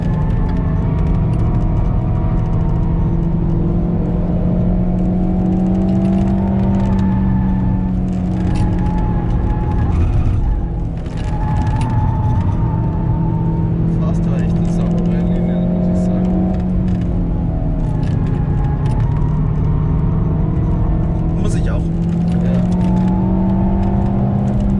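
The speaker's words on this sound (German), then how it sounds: "weil ein Golf mit mehr als der doppelten Leistung an mir vorbei wollte" A more powerful Volkswagen Golf overtakes a low-powered car, its engine whirring and revving steadily throughout, with a continuous road drone and a voice talking over it.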